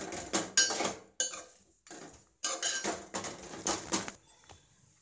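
Manchurian balls being stirred in a pan for veg Manchurian, with repeated scraping and clinking of a utensil against the metal pan in irregular bursts, close and fairly loud, no talking.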